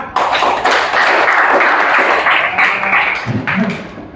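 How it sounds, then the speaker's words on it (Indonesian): Classroom applause from students at a junior high school in Pangkalan Lada, a loud burst of clapping that holds steady, then thins out with a few scattered taps and thumps near the end. "Tepuk tangan."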